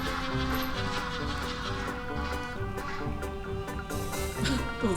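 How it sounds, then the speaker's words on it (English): Ducks and other fowl call in a busy, overlapping chorus outdoors near an old castle in Oxford, steady and fairly loud throughout with repeated quacks and clucks. "Oh, the ducks."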